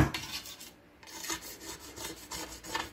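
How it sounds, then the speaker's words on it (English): A blade scrapes crud off the top of a Land Rover series door in repeated short rasping strokes, close and fairly quiet, with a brief pause near the start. "just scrape it off with a blade"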